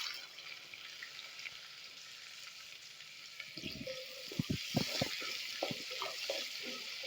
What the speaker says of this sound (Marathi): थोडस हलवून पटकन असं कांदा टाकणार आहोत त्याच्यात आपण, जेणेकरून ती मिरे लवंगा उडणार नाही.